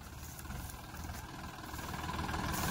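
A tractor engine idles at a paddy harvest, a steady low rumble with a faint vibrating hum that swells slightly toward the end, heard alone without speech.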